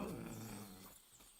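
A dog named Mutt growling, a low rough rumbling growl close by that fades out after about a second.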